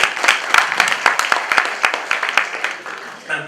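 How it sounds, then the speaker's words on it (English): A small audience at a university event claps for an honored guest, sharp individual claps clearly separated, tapering off toward the end as a voice begins. "Please give him a round of applause too."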